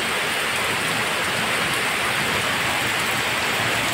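Heavy rain pours down in a dense, steady roar of hiss and patter that stays loud and unbroken throughout, with no voices over it.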